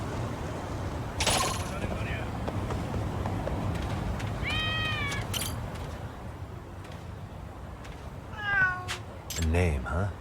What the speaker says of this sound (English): Oh, cats.